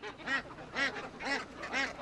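Ducks out in a field quack in four evenly spaced bursts, clear and fairly close, with no talk over them.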